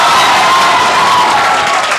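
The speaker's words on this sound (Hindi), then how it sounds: "जबरदस्त जोरदार ताली और स्वागत करो" A crowd at a coaching institute celebration for JEE Main toppers claps and cheers to welcome the daughters, a loud, continuous wash of applause mixed with shouting voices that fills the whole moment.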